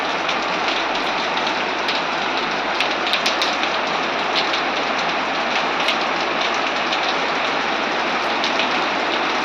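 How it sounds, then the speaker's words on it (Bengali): Heavy rain pours steadily in the evening, a dense continuous hiss of drops drumming on surfaces and water running, with a low hum beneath and no voices. "দেখো কেমন জোরে বৃষ্টি নেমেছে"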